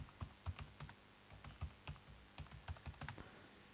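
Keys clacking on a computer keyboard while spreadsheet text is entered in Microsoft Excel, a quick run of about a dozen soft, close taps in an uneven rhythm, fairly quiet with no voice over it.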